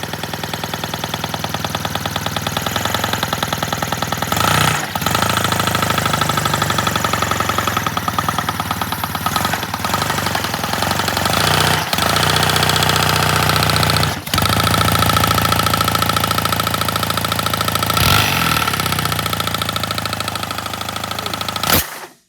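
A 3D printed inline twin engine fitted with dual exhausts runs continuously at close range, a loud steady buzzing drone with rapid mechanical rattling and a few brief dips in pace, with no voices.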